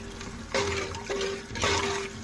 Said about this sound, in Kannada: ಅದೇ ಥರ ಮೂರು ಗ್ಲಾಸಷ್ಟು ನೀರು ಹಾಕ್ತಾಯಿದ್ದೀನಿ